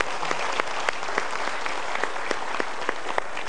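A studio audience at a talk show applauds steadily, with dense sustained clapping from a crowd that keeps an even loudness throughout.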